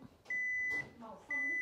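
A Rinnai gas stove sounds its safety gas shutoff warning: two sustained electronic beeps, fairly faint, separated by a short gap, with quiet background room noise.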